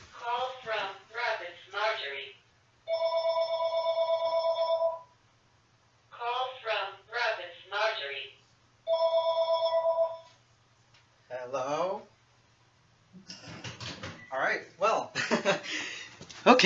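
A telephone rings in two long electronic bursts several seconds apart, loud and close, alternating with someone talking between and after the rings.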